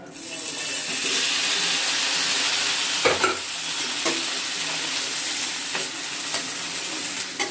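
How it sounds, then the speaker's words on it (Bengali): Curry is reheated in a pan over a gas stove, giving a steady close sizzle and hiss throughout, broken by a few light knocks and scrapes of stirring. "তরকারিটা গরম করে নিই।"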